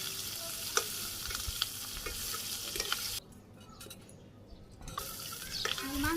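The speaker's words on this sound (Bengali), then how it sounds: "এইভাবে সবগুলো আমি মাংস ভেজে নিই" Chicken meat fries in hot oil with a steady crackling sizzle and occasional stirring clinks, close by. The sizzle cuts out briefly midway to a quieter stretch before resuming.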